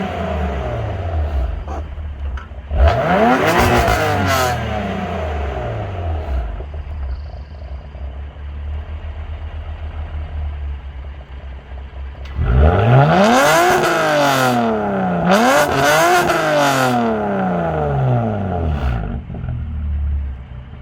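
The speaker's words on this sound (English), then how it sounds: "Okay, so here's the exhaust clip." A BMW F80 M3 with an aftermarket exhaust idles with a deep burble, then revs up sharply, once early on and in several quick rising blips later, each climbing to a loud roar before falling back to idle.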